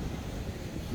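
Strong wind gusting across the microphone at Maliya Beach in Kuwait, with waves breaking nearby; a steady, dense low roar fills the whole moment with no letup.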